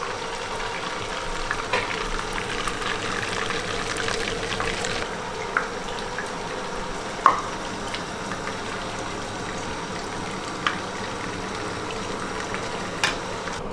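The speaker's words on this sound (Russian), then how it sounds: "Убираем излишек масла." Excess oil poured off from a kazan while cooking lamb kazan-kebab with ribs and potatoes on a stovetop, a continuous bubbling, hissing liquid sound with a few small clinks.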